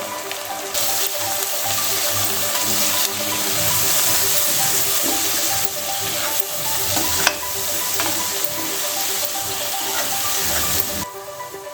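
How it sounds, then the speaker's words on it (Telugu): Ginger garlic paste and turmeric are stirred in a hot pan for Telangana-style mutton curry, with a loud, continuous sizzle and frying hiss and a spoon scraping and mixing steadily throughout. "సరిపడా అల్లం వెల్లుల్లి పేస్ట్ వేసుకొని ఒకసారి చక్కగా కలిపేసుకుందాం."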